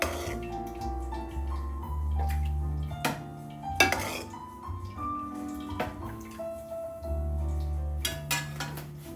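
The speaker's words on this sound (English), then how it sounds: "Turn the handle, skins come out here, and the tomato puree goes into there." A hand-cranked food mill purees cooked-down tomatoes and pushes the skins out. It makes close metallic scraping, squeaky grinding tones and sharp clanks at irregular intervals, with no talk.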